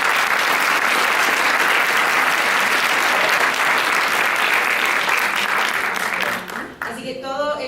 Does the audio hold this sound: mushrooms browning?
no